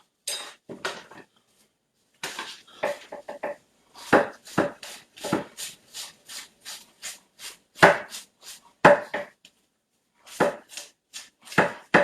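Knife on a cutting board dicing onions for homemade tater tots, a steady run of sharp, close chopping taps in quick bursts with short pauses, no talking.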